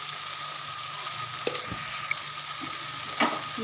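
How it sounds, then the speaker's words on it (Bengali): Taro greens with a fish head, in a pan of Bengali-style cooking, hiss in a low, steady sizzle as they are stirred and fried to dry off the water. The occasional soft scrape of a spatula sounds against the pan. "এবারে এটাকে ভালো করে নেড়ে চেড়ে পুরো জলটা শুকাবো।"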